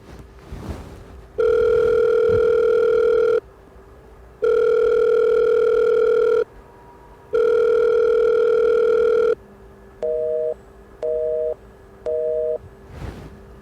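A telephone call plays three long loud ringback tones separated by pauses, then three short beeps of a busy signal as the call is cut off, with no voices.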